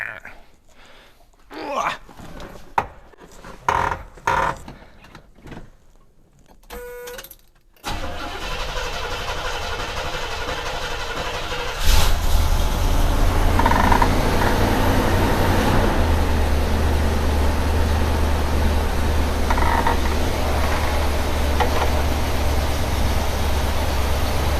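A 1972 Buick GS Stage 1 cranks and catches, then settles into a steady, loud high idle that steps up in level and holds for the rest of the stretch; scattered clicks and a brief voice come before the start.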